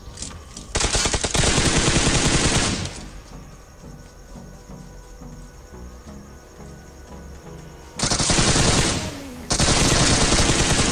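Two long, loud bursts of full-auto M4 rifle fire in a mobile battle royale game, the first about two seconds and the second cut by a brief gap, with quieter ambience between.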